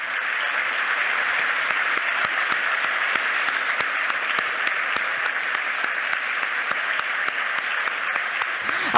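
Sustained applause fills a university lecture hall in memory of Giulia, an even, unbroken roar of many hands clapping at once, loud and steady, with occasional sharper claps rising above the crowd.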